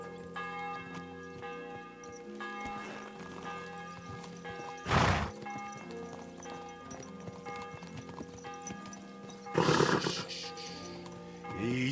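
A horse ridden in Kingdom Come Deliverance 2 clip-clops along steadily, hoofbeats mixed with a game music score, with two brief loud bursts of noise.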